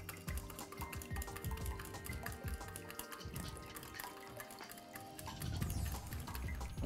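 Veggie base and warm water are stirred into tofu, giving wet squelching, sloshing and light clinks of a utensil against the container in an uneven stirring rhythm, soft and close with no talking.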